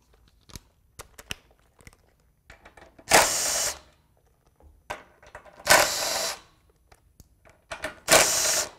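A power drill or driver removes four 10 mm screws from the static cover of a Big Block engine during cleaning, sounding as three loud bursts of whirring separated by quiet gaps with small clicks and handling noises.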